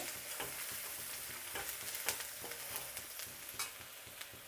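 Steady sizzling of onions frying in a pan for sambar tempering, with occasional scraping and stirring clicks throughout, close and continuous with no voices.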